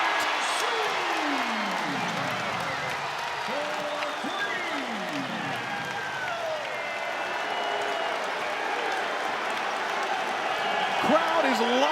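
During a George Mason vs. Virginia Tech men's college basketball game, the arena crowd cheers and applauds in a steady, loud roar with sneaker squeaks on the court, while a commentator talks over the noise.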